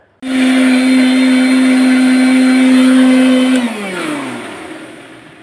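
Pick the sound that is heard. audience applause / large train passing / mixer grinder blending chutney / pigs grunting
mixer grinder blending chutney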